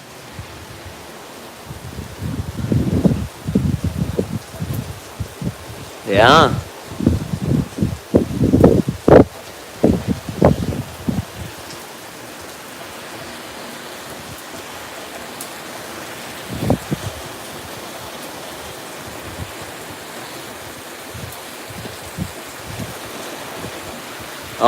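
Monsoon rain and wind sweep past an open door in Las Vegas, with a constant hiss of rainfall and several strong gusts early on that then ease; someone briefly speaks.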